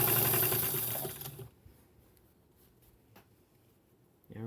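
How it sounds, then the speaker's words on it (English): A sewing machine stitches selvage edge to selvage edge on a scrappy fabric tree skirt, running steadily and loud for about a second and a half before stopping, followed by quiet room sound and a brief restart at the end. "this is selvage edge to selvage edge that you're sewing together"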